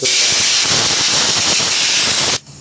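Compressed air blasting through the carburetor of a Sears Suburban 12 garden tractor: a loud, steady hiss for about two and a half seconds, then cutting off abruptly.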